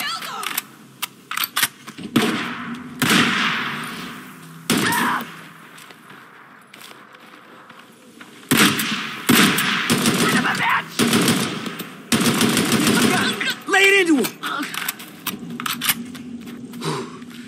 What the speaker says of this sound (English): Lay it into him. Give it to him. Shoot the assholes.